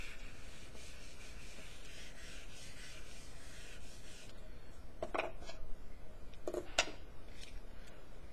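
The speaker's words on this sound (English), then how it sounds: "Let me just erase this over here." A board eraser is rubbed across writing on a board in a math lesson. It gives soft, steady scrubbing strokes, followed by a few sharper squeaky swipes near the end.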